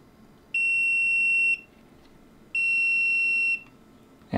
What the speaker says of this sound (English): And it beeps at us to indicate that it's done.